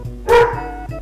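A dog barks once, close and sharp, against a steady electronic hum from Out Run playing on a Sega Master System in the room.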